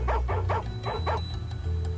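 Small dog barking in the Chinese Paladin 2 video game, a run of about five quick yappy barks in an even rhythm, close and fairly loud over a low game music bed.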